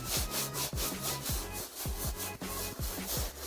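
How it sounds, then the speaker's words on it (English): A brush dipped in cleaning solution scrubs Yeezy sneaker soles in quick back-and-forth strokes, a close, rhythmic rasping repeated about a dozen times. "take my solution, dunk it, put it, dunk it, and I can just start scrubbing"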